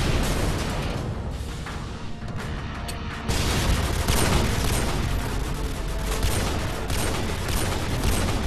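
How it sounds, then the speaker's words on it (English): Barrett sniper rifle fire in the video game Modern Warfare 2 amid a dense, continuous barrage of loud gunshots and booming blasts, heaviest after an abrupt surge partway through. "if I was really shooting this Barrett next to your ear in real life, you'd be deaf right now"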